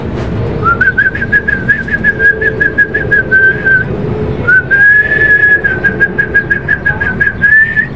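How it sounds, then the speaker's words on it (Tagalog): A person whistles two long, steady high-pitched notes to pet lovebirds, each held for a few seconds with a short break between, close and clear over a low background murmur. "Tandaan nyo yung sipol ko, ha."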